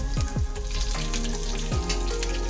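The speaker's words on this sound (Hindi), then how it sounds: "अब मैं इसमें हरी मिर्च डाल रही हूँ।" Green chillies dropped into hot oil with lightly browned garlic, a loud continuous close sizzle and crackle with a few sharp pops, no talking.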